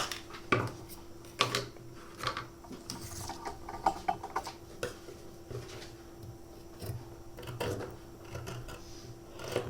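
Blouse sleeve fabric being cut with scissors, heard as intermittent close snips and soft clicks of the blades, with faint handling rustle in a quiet room.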